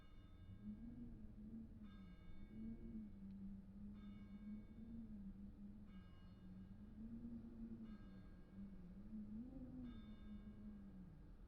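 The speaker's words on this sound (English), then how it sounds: "Hear that bell just ringing?" In the video game Getting Over It, a bell rings with clear metallic strikes about every two seconds, steady and moderately loud over a low droning hum.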